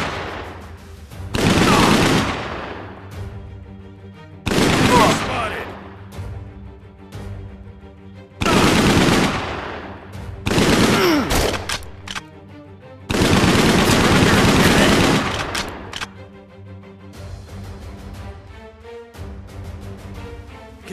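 Gunfire in the VR video game Operation Serpens, loud close bursts of rapid automatic fire a few seconds long, separated by quieter gaps with faint ambient sound.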